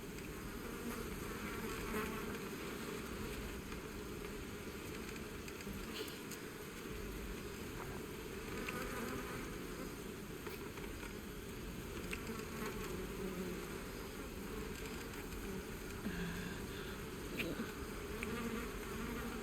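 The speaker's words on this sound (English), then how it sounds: "Do you hear those flies buzzing around about?" Flies buzz continuously in Baldur's Gate 3, a dense, steady insect drone that stays close and fairly loud for the whole stretch over a low ambient rumble. No one speaks.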